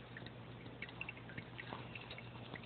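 A small, low-powered fountain pump in a birdbath sends water trickling with faint scattered drips over a steady low hum, quiet and close.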